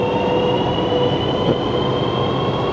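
A train at Wangxian Valley in Jiangxi, China, rumbles steadily along with a constant high whine and low roar, loud and continuous throughout, no voices.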